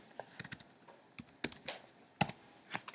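Keys on a computer keyboard are tapped in short, irregular clusters of clicks with brief pauses, soft and close in a quiet room.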